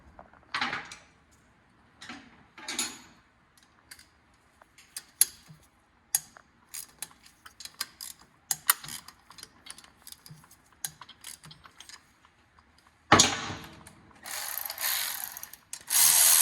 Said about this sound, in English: Now I need to take the rocker assembly off. Just 3 bolts through here.